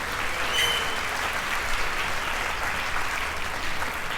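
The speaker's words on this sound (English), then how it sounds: "Give her a big round of applause." Sustained audience applause fills a hall after a motivational business talk, steady dense clapping held at an even level throughout with no voices on top.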